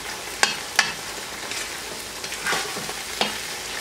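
Ginger-garlic paste, about a tablespoon and a half, is stirred into dry spices in a pan over a high flame. Intermittent spoon scrapes and clacks sound over a soft, steady sizzle, with no talking.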